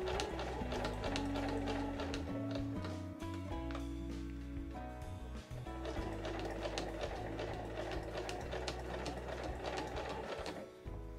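A sewing machine stitches fabric 5 mm from the edge on a quilted nubi tote bag, a fast mechanical rattle running almost continuously with a brief pause midway, close and clear with no talking.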